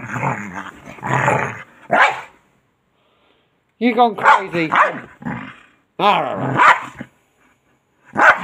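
A dog barks in loud, close bursts, some with a growling edge, between stretches of a person speaking to it indoors.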